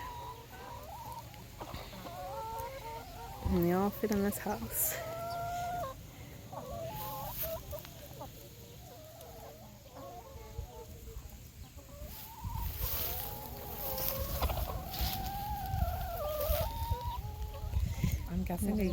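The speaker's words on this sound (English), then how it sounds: "We made it out to the chickens." Chickens cluck and chatter throughout inside a farm chicken house, a dense, busy flock sound with clucks rising and falling in waves, while people talk over the birds now and then.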